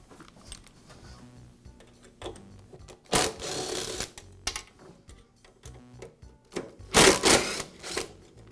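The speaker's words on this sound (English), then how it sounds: "There are two screws that hold the pivot pin captive. I'll go ahead and remove each of them." Screws being backed out of the pivot pin on a DeWALT chop saw, heard as small scattered metallic ticks and clicks with a few louder rattling bursts, close up and without talk.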